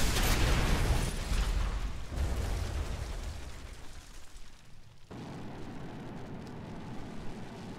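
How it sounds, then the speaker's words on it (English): Bombs exploding in War Thunder, a Bf 109 versus MiG air battle: heavy rumbling blasts roll out over a steady aircraft engine drone, loud at first and then fading, with a sudden cut to a quieter engine hum. "Drop the bombs."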